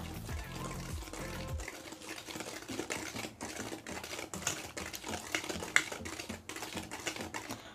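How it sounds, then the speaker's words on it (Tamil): Sugar being whisked into sponge cake batter for a pressure-cooker cake, a steady busy rattle of rapid clicking and tapping strokes that runs the whole time close up, with no talk. "சர்க்கரையும் சேர்த்துட்டு கலக்கி விடுங்க."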